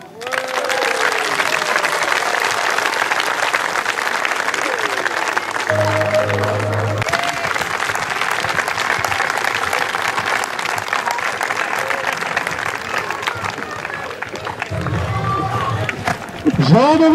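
Sustained outdoor applause from an audience at a summer event in Lyons-la-Forêt, dense clapping running throughout with scattered voices and a few louder moments.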